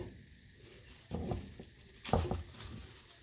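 Onions cook in a pot for potato soup with a quiet background sizzle, broken by two short bursts of stirring and scraping, close and soft.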